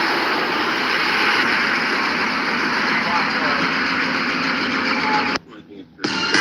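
Repaired car engine idling smoothly and steadily, a continuous even hum close by, broken by a short silent cut near the end.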